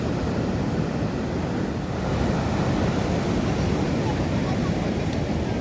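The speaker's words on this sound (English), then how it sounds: "Waves breaking." Steady roar of ocean surf washing onto the shore at Florence, Oregon, continuous and full with a gusty, wind-buffeted edge throughout.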